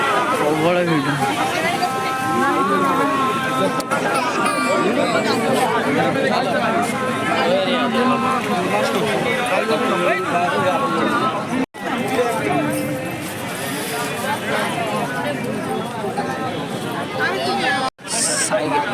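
Dense crowd chatter and overlapping voices fill the space outside Lingaraj temple, a loud, continuous hubbub of many people talking at once with brief drops.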